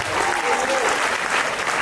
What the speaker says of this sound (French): Applaudissons très fort.